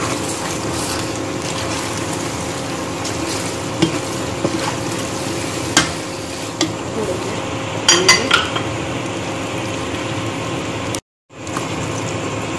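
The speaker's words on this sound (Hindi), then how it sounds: "थोड़ा इस तरह मिक्स कर लेंगे।" Macaroni mixed in a pan, with a steady bed of scraping and rattling against the metal and a few sharper clinks, a brief dropout near the end, close and continuous with no talk.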